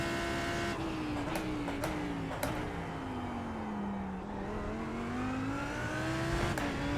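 A Lamborghini Huracan GT3 EVO in iRacing downshifts toward first gear on a lap of Spa-Francorchamps, its engine droning steadily with pitch falling and rising, brief shift blips cutting through the continuous in-car roar.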